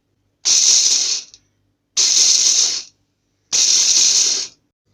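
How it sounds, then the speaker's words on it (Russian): An electric blender runs in three short pulses of about a second each, chopping nuts for a meringue cake, with a loud whirring buzz separated by brief silences. "Я воспользуюсь блендером. Блендером надо работать короткими импульсами, чтобы не выделилось масло."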